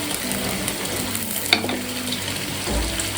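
Two sliced large onions fry in a hot pan, giving a close, continuous sizzle with a sharp stirring clatter partway through.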